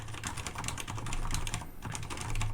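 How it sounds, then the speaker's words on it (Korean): Steady typing on a mechanical keyboard with silent red switches, a dense run of muted, close keystrokes with a dull, damped tone and no talk. "그래서 개발된 스위치가 저소음 적축 스위치입니다"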